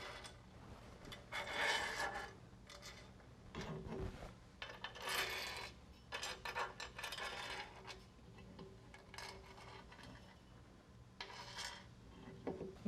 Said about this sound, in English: we're going to slide some of our bolt assemblies over here. I'm going to slide these in like so.